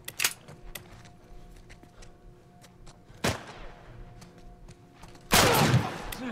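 Gunfire in The Last of Us Part 1 video game: a few sharp, loud shots spaced apart, one near the start, another midway and a heavier burst near the end, over quiet ambient game sound.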